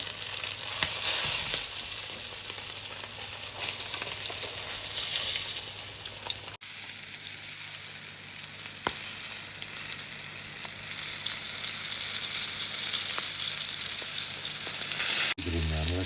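Flour-coated fish fries in a heated pan, a steady, dense sizzle crackling close and loud for the whole stretch, with no voices over it.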